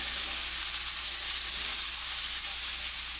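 Onions and aromatics sweating in a hot pan for beef shin stroganoff, a steady close sizzle and hiss with no voices, even and continuous.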